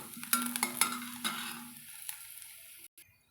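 Chickpea sundal with coriander leaves sautéed in a pan, a few quick stirring scrapes and light sizzling up close that fade into quiet.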